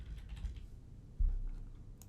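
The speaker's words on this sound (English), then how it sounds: "just typing in the new name" A few quiet keystrokes on a computer keyboard while a new name is entered into reporting software, sparse soft taps with one louder thump, no speech.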